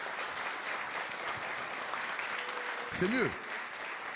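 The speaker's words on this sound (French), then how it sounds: "je vais vous demander d'applaudir à 3, mais vraiment tout le monde" Audience in a town hall applauding together on a count of three, a steady broadband wash of clapping throughout with a voice speaking briefly over it near the end.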